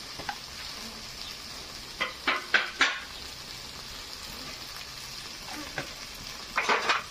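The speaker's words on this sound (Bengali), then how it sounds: "যে মশলাটা ভালোভাবে কষিয়ে দেবো প্রথমে, যতক্ষণ না মশলা থেকে তেলটা ছেড়ে যাচ্ছে।" Spice paste with salt, turmeric and chili powder frying in oil for a Bengali katla fish curry, a steady close sizzle broken by several sharp scraping stirs of a spatula in the pan, no talk.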